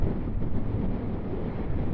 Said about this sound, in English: It is still windy. It is a storm.